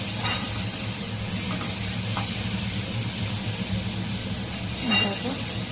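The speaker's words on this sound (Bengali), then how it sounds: "পেঁয়াজটা একটু ভেজে নিচ্ছি" Onion sizzling and frying in a pan on a home stove in a fish curry kitchen, a steady broad hiss running throughout with faint stirring scrapes, under a low background hum.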